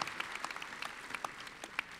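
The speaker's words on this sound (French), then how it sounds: "on peut vous applaudir" An audience at a conference round table on reinventing town centres applauds, a steady patter of many hands clapping at moderate distance.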